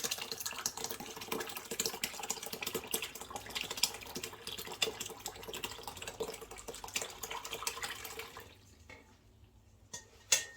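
Cheese curds and whey for homemade Boursin-style cheese are gently poured through a cloth, a steady close trickle and splash of liquid that thins out toward the end, followed by a few faint drips and small knocks.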